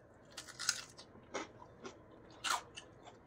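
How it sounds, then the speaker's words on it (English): Crunchy Wingstop chicken wings are bitten and chewed close to the mic, with several distinct crisp crunches spread across a few seconds and a sharp loud bite near the end. "Bite the crunch."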